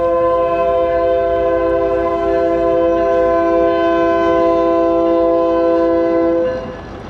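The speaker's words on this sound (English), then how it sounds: "Sometimes in Fate, you even get the train coming through." A train passing through the center of small-town Fate, Texas, its horn sounding loud and steady for about six seconds over rumbling wheels before cutting off, no voices present.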